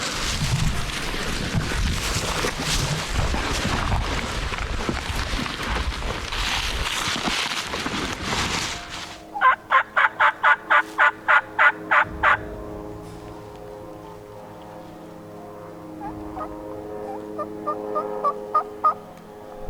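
A wild turkey gobbler gobbles close by in the woods, a loud, rattling burst of rapid notes. Fainter gobbles follow later, after a stretch of wind noise at the start.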